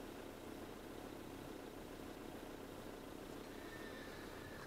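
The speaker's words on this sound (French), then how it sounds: "Le doux bruit du moteur qui tourne." Motorhome engine running steadily, a low continuous hum and rumble heard from inside the vehicle, faint and unbroken throughout with no voices.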